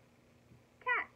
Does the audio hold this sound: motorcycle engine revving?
no